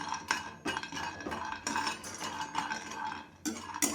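Almonds dry-roasted in a pan and stirred with a metal spoon, producing bursts of rattling, clinking scrapes in an irregular rhythm, close and fairly quiet.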